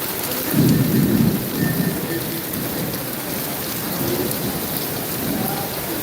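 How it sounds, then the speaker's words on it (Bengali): Heavy rain pouring down in Singapore with low rumbles of thunder, a dense continuous roar of rainfall with swelling booms in the background, no speech. "কঠিন পরিমাণ বৃষ্টি হ্যাঁ"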